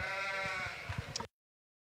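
Sheep bleating at a county livestock show ring, one loud, wavering bleat lasting about a second, followed by a few soft thumps before cutting to silence.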